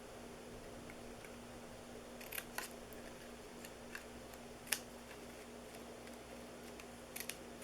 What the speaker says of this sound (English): we are going to cut some of that greenery off